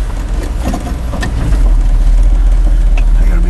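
A 1976 Dodge Power Wagon with a 360 V8 running on wood gas in four-wheel drive drones loudly and steadily from inside the cab, its low rumble swelling as it pulls away.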